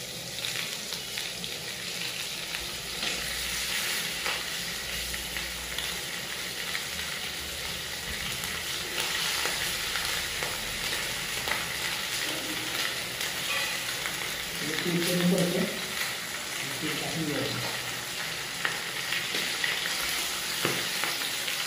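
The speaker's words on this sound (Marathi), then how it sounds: "हे बघा चांगले असे फ्राय करून द्यायचे आहे तेलामध्ये" Fish frying in oil on a flat iron griddle, a steady crackling sizzle running throughout at moderate level, with a few brief stirring or handling noises and faint background voices.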